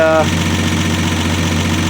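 A 1965 Dodge Dart's Slant6 engine idles after a cold start, a loud, steady low rumble with an even pulsing beat, close up and without voices.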